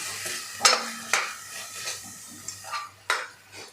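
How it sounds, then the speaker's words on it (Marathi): Ground spice paste sautéed in oil in a pan on low heat for a palak batata curry, with a soft sizzle broken by several sharp scrapes and clinks of a spoon stirring against the pan. "आता यामध्ये घालायचं आहे आपण जे वाटण तयार केलेलं ते वाटण आपल्याला यामध्ये घालायचं आहे आणि तेल सुटेपर्यंत आपल्याला परतून घ्यायचं आहे"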